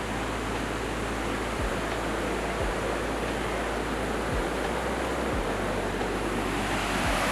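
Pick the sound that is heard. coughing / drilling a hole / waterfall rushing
waterfall rushing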